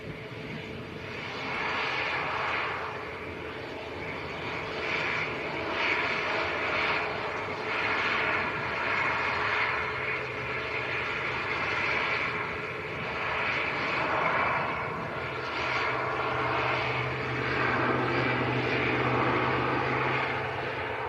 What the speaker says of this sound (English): Yes, it is the ATR 42.